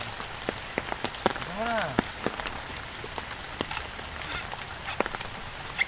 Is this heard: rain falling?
yes